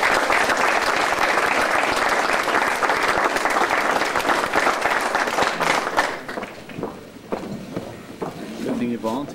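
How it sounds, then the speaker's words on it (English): Wedding guests give a big round of applause for a speaker, dense steady clapping from a large audience that thins and fades toward the end while voices begin to talk. "Big round of applause."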